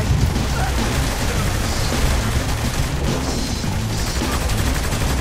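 Dense gunfire in Saints Row: The Third, with loud, continuous bursts of shots and booms that run unbroken throughout, apparently mixed with some voice activity.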